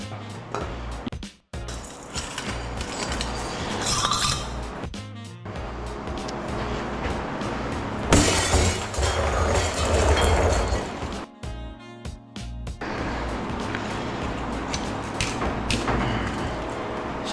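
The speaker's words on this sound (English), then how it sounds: "sometimes the only thing to do is just hit them with a hammer, you know, if the glue's too tough." A hammer smashing the glass off transformers from commercial lighting fixtures during copper scrapping, with clattering impacts, crunching shards and scraping of metal parts coming in uneven bursts, close and loud throughout.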